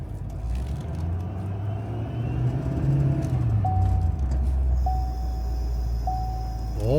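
A custom RV labours off-road in four-wheel drive, its engine droning low and steady under a whining drivetrain, with repeated electronic beeps chiming toward the end.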